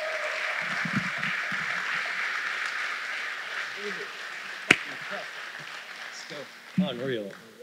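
Audience applauds speaker Max Jimenez, a broad wash of clapping that fades as someone talks over it, with a sharp bang partway through.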